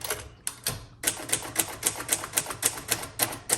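Keys clack on a 1958 Royal Futura 800 typewriter with thick black keys, a close, brisk run of sharp strikes in steady rhythm after a few hesitant opening taps.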